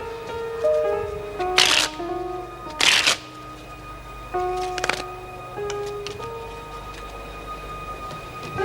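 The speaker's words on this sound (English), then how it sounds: "as it is my lipstick, I think I should be the one to shuffle" Several quick riffles of a deck of playing cards being shuffled in a prison cell drama scene, sharp bursts separated by pauses, set against tonal background music.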